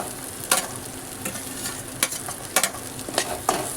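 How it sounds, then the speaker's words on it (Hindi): Onion sautéing in a pan crackles with a steady sizzle, cut by several sharp scrapes and taps of a spoon stirring, close up and without talk. "हम इसमें प्याज डाल देते हैं इसको भी।"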